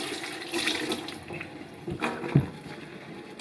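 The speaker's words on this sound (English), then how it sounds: "Give it a rinse and you'll see the difference." Sandals being rinsed under a running tap: a steady splash of water with gurgling and small knocks as the footwear is moved around under the stream.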